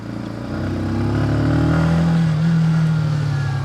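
A Sinnis Outlaw 125cc cruiser motorcycle runs close by, its low single-cylinder engine note steady and then rising slightly as it pulls along, loud and alone without talk.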